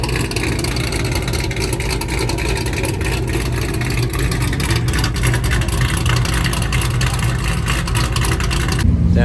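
At a Cars & Coffee meet, a car engine revs hard with a deep, chomping exhaust note that stays loud and continuous for several seconds before cutting off abruptly, with no clear talk over it.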